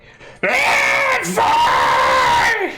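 A human voice imitates a troll screaming as fire burns its back. It is a loud, strained, wavering scream in two long pushes with a short break between them, close up and with nothing else under it.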